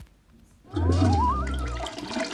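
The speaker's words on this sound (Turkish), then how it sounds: "Kapağını kapatıp sifonu çekiyorsunuz." A toilet flush in the video game Toca Life World, a sudden loud rushing gush of water with a rising swirling tone, starting after a quiet moment and sustained close up, no talk.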